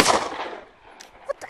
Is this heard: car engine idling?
no